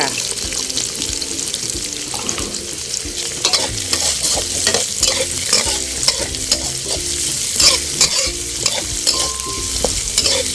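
Chopped vegetables and carrots stir-frying in a pan for a stuffed omelette: a continuous sizzle with a spatula scraping and stirring in repeated strokes, close and fairly loud, with a little water noise in the background.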